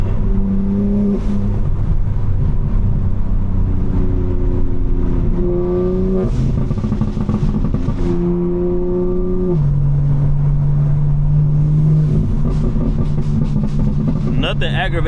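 A BMW M4 tuned for maximum exhaust burbles drones loudly and steadily up close, its engine note climbing and shifting in pitch as it revs and changes gear.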